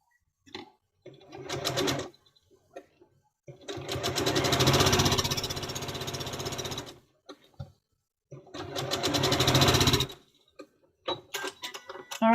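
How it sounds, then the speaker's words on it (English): A sewing machine stitches quilt block pieces together in three sustained runs of rapid mechanical whirring, separated by pauses with faint handling noises. "And then we will sew them together to make two sides of the block."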